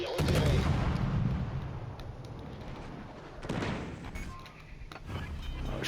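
Video game gunfire from an enemy ship, sharp bursts of shots with booming impacts scattered over a few seconds, fairly faint and mixed with game background noise.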